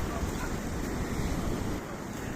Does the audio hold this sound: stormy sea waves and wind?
yes